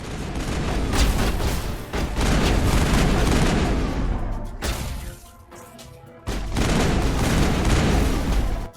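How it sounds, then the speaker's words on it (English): Loud, dense bursts of gunfire from a sniper rifle in the video game Mass Effect, repeated cracks and booms filling most of the stretch with a brief lull partway through. "Sniper rifle."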